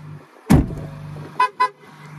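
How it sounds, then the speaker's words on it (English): A 2023 Ford Bronco Raptor 4x4 sounds its horn as the key fob moves away: one longer honk followed by two short toots, fairly clear over quiet surroundings. "the vehicle will sound the horn a few times"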